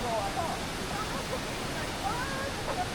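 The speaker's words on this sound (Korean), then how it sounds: "오늘 비가 내린 덕분에 다른 때보다 수량이 많아 더 멋진 폭포를 관람하고 있는 거라고 하셨는데" A waterfall running high after rain gives off a continuous, moderately loud rushing wash, steady and unbroken, with faint voices and a few birdlike chirps poking through the water noise.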